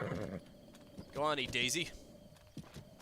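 A horse in the video game Zelda Breath of the Wild whinnies once, a loud, wavering neigh in the middle, with faint hoof clops before and after, while someone talks briefly at the start.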